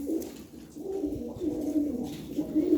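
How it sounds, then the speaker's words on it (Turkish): A pigeon close by, breathing heavily, makes low, rapid, throaty sounds, a continuous breathy cooing that rises and falls without pause. "Kuş biraz soluk soluğa kaldı."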